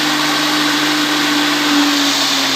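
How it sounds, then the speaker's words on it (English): A blender running close and loud with detox juice inside gives a steady high whirring motor drone with a constant tonal hum and no speech. "we're going to blend again to make it more fine"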